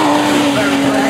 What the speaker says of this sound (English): So Harvey crossing the line in car 66, hotly pursued by Chris Dunlop in car 70.